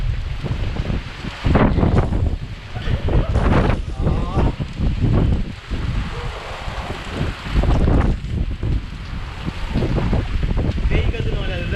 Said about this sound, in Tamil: பேய் காத்து மாதிரி இருக்குது.